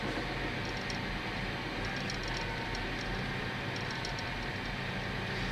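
A John Deere 8370R tractor runs at full throttle on a back road, a steady, fairly quiet broadband engine drone that holds evenly throughout without pause.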